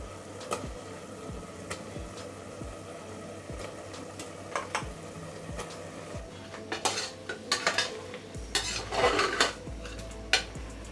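Fried chicken kofta balls being stirred into a mint, coriander and yogurt masala for biryani, with a spoon scraping and clinking against the pot in irregular bursts, growing busier and louder toward the end, with no voices.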